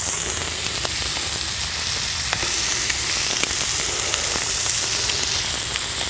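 Sausage frying in a pan on a Silverfire Scout twig-fed camping stove, giving a loud, continuous close sizzle with crackling pops throughout and no voices.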